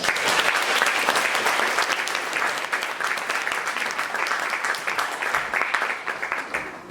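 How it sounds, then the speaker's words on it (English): Audience applause at a poetry night, a sustained burst of clapping from a crowd that stays loud and steady throughout, with no talking over it. "Please give her a round of applause."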